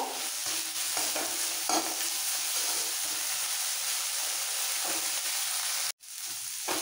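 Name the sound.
neem leaves frying in oil in a pan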